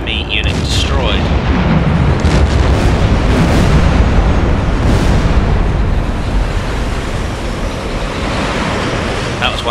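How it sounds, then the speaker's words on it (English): An enemy ship explodes in the submarine video game Silent Hunter IV, a long, loud, rumbling blast that roils on for several seconds, with a voice speaking over it. "That was one heck of an explosion."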